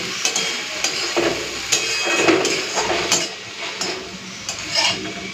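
Soft leafy greens are stir-fried in a pan, a continuous sizzle broken by repeated scraping and knocks of a spatula against the metal, close and fairly loud.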